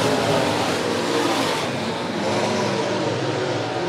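Late model race cars roar continuously around the dirt oval at Monett Motor Speedway, a loud, dense engine drone with rising and falling revs as the pack passes.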